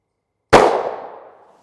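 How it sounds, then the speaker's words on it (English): A single 9mm +P+ Underwood pistol round fired from a Springfield Hellcat into a gel block outdoors in the evening: one sharp, loud crack with a short fading tail, and no voices. "I don't know why I'm shooting so low with the Hellcat today"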